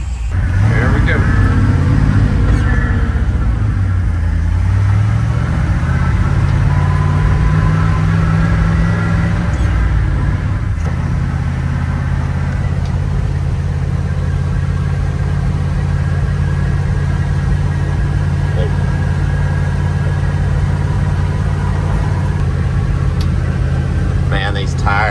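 1980 Dodge Power Wagon engine idling close by in a steady low rumble that shifts pitch partway through, with a voice talking over it.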